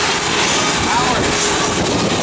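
SB2C Helldiver aircraft powered by a 1900 horsepower Wright R2600 radial engine at an air show open house, a loud, steady droning engine roar that fills the clip from start to finish.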